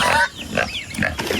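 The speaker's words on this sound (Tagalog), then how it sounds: "may dalawa tayong baboy dyan" Pigs on a farm in the Philippine countryside grunt in several short, close, loud bursts with brief pauses between them.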